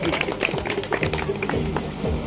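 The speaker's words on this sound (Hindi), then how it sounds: "एक बार मैं चाहूंगा संविधान के लिए जोरदार ताली होनी चाहिए।" Audience clapping at an honour ceremony, a busy mix of uneven hand claps with voices and background sound mixed in throughout.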